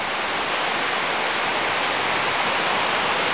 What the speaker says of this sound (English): Creek practically flooded to the brim.